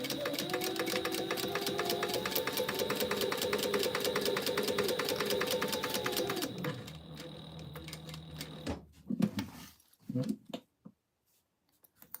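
Sewing machine stitching a 1/4 inch seam allowance, a steady rapid mechanical whir with fast regular needle ticks for about six seconds, then stopping, followed by a few scattered handling clicks and quiet.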